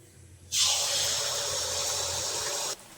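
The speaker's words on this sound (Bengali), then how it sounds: "এখন আমি গরম তেলের মধ্যে ব্যাটারটা 1 চামচ করে দিয়ে দেবো।" A spoonful of ripe palm fruit batter hits hot oil with a sudden loud, steady sizzle that holds for about two seconds and then cuts off, close up.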